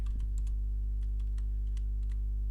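A computer keyboard being typed on to enter a student's name while renaming a file: a brief run of light, irregular key clicks, faint over a steady low electrical hum, with no talking.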